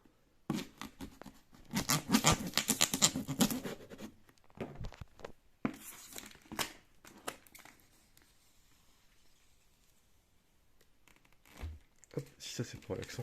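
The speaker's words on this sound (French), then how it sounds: "je vais ouvrir ça à l'aide de mon petit couteau" A small knife cuts and slits open the packaging of an AeroCool LUX 550W power supply, giving bursts of close scraping, tearing and crinkling with short pauses and quieter handling in between.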